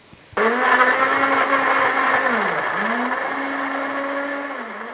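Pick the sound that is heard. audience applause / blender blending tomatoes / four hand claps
blender blending tomatoes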